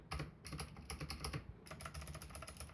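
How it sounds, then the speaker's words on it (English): Typing on a budget TeckNet RGB mechanical gaming keyboard, a fast steady stream of crisp, close key clicks without any talk. "Now, the key sound brilliantly lovely to me."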